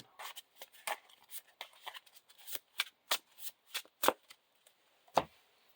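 Playing cards being shuffled up close, a quiet series of quick riffling and snapping bursts at an uneven rhythm, with no voices.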